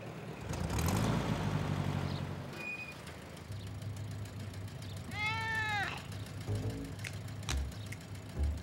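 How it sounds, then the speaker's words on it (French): Cartoon cat meowing once in a drawn-out wavering cry midway through, over a busy animated scene with rumbling background noise and other effects, no talking. "Tu es un vilain chat, Gilbert."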